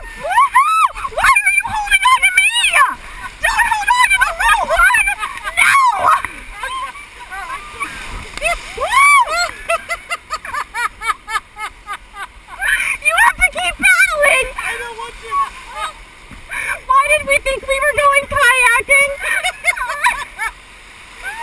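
Whitewater rapids on the East Race, a half-mile urban course in South Bend, splash and churn continuously at close range while voices talk loudly over the rushing water throughout.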